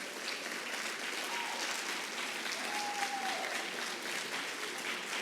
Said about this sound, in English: a big thank you and round of applause, if we could, to Mr. Zach Mansky and to Mrs. Kim DeBacker